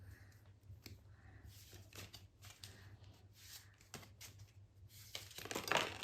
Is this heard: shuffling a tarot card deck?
yes